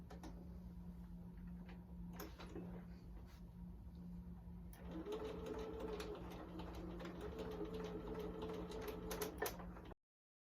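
A home sewing machine running along one long fabric seam, a faint steady whirring hum that grows busier about halfway through, with small clicks and a steady background tone, then cutting off abruptly.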